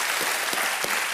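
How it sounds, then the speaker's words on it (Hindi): Studio audience at a quiz show with India's women's cricket team as guests bursts into steady, dense applause, loud and continuous for the whole stretch with no talk over it. "तालियां बज जाए इनके लिए।"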